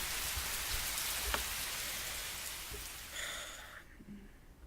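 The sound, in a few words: rain intensifying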